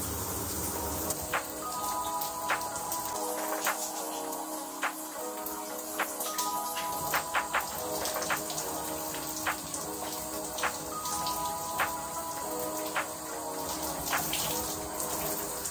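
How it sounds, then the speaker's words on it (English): Shower water runs and splashes over a body in a continuous dense spray, with small irregular drips and taps throughout. "I like to get my whole body just drenched in water, just making sure I get water everywhere"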